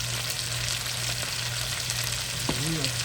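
A pot of soul-food beans is stirred over the heat with a soft, steady sizzle and faint scraping, low and close, with a brief vocal sound near the end.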